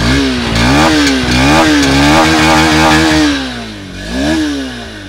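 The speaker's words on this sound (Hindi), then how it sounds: "अब इस स्पोर्टी बाइक का साउंड सुनाने का टाइम आ गया है" A 2024 Honda Hornet 2.0 motorcycle engine idles loudly up close, then revs up and drops back several times, its pitch rising and falling in a rough, throaty rumble.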